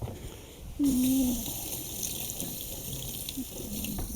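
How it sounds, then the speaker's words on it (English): Kitchen tap running while a spoon is rinsed under it: a steady, moderately quiet stream of water that starts abruptly after a brief clink and continues for several seconds. "I'm just going to rinse that off."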